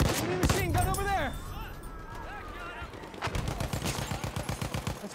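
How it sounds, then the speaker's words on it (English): In the Battlefield 1 video game, machine gun fire rattles in rapid, steady bursts alongside sharper gunshots and battlefield noise, with voices heard in between. "Enemy machine gun over there."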